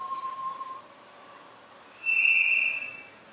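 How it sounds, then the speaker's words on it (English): A referee's whistle during a senior ice hockey game: a faint tone at the start, then a sharp, shrill blast of under a second over quiet, distant arena ambience. "And we got a whistle."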